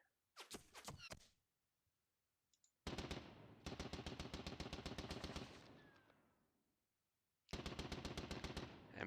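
Rapid machine gun bursts in a World War I–era battle video game set at Dinant, France, 1914: a short clattering burst, then long sustained automatic fire that tapers off, and another loud burst at the end.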